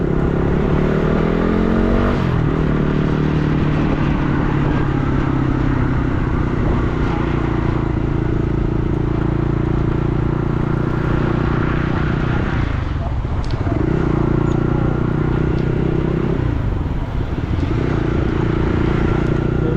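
A motorbike ridden along a road, its engine droning steadily and close with shifting pitch as it changes speed, wind rumble beneath, and no clear talk over it.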